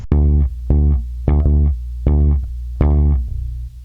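A bass guitar plays a slow phrase of plucked low notes, five main notes with a quick double hit in the middle, each ringing briefly before the next.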